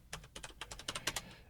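Rapid typing on a computer keyboard during a live game stream, a quick irregular run of sharp close key clicks with no talking.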